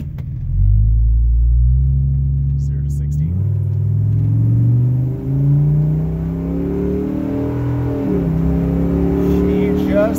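A Ford F-150 with a 3V V10 engine and 3.73 gears accelerates hard from a standstill to 60 mph, its loud low engine note rising steadily through the gears with a brief dip at a shift, heard from inside the cab.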